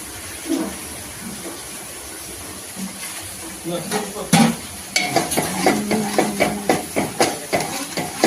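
Chili powder, coriander powder, chicken masala and salt are stirred in an oil-filled pan for a prawn and fenugreek curry, giving a soft sizzle that builds into rhythmic, close scraping strokes.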